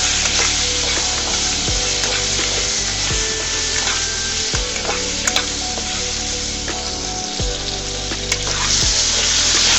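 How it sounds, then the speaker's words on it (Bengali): Potatoes frying in oil with salt and turmeric give a loud, steady sizzle, with occasional scrapes and clinks of a spatula stirring them in the pan, close up and without talk. "আলুগুলাকে আমি নেড়ে চেড়ে ভেজে নিচ্ছি"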